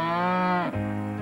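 A voice imitates a cow's long moo, loud and close, with one drawn-out call whose pitch dips partway through before settling lower.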